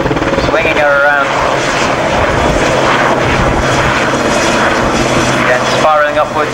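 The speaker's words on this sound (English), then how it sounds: "A lot of power in this helicopter. Twin turbo shafts" A powerful twin-turboshaft helicopter roars steadily nearby at an airshow, its engine whine and rotor thrum filling the air without pause.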